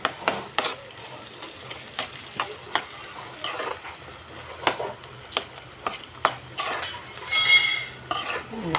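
A spoon stirs green chillies and tomato in a pan, producing repeated close scraping clinks in an uneven rhythm over a faint sizzle, with no speech.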